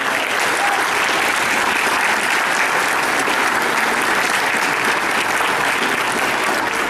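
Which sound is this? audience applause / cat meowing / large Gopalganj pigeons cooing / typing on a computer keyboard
audience applause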